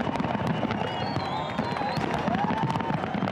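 Fireworks exploding over a crowd at the Australia Day Skyworks celebration in Perth, a dense continuous crackle and rumble of bursts with whistling trails, crowd noise mixed in.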